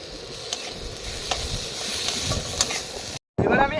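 Chopped capsicum hitting a hot pan, giving a steady close sizzle with stirring scrapes, a brief silent gap near the end, then a louder burst of frying.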